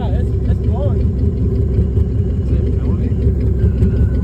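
A junkyard truck engine fitted with a turbo runs at a steady, loud idle with a dense low rumble throughout, while people talk nearby over the engine.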